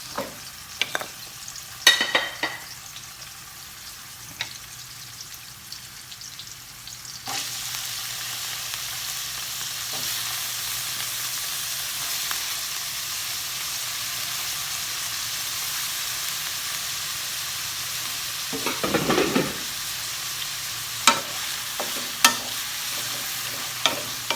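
Red onions and carrots sauté in a pan for fish escabeche, a soft sizzle that swells into a louder, continuous frying hiss midway, punctuated by utensil scrapes and taps.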